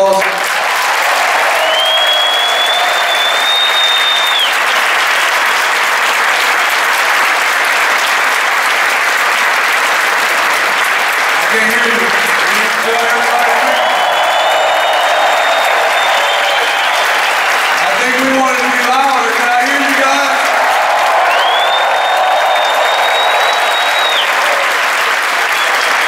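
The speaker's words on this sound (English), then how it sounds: "can you guys give him a round of applause?" A large basketball arena audience applauds and cheers steadily for a halftime tribute to coach Jud Heathcote, a dense, loud roar sustained throughout with whistles cutting through and brief voices underneath.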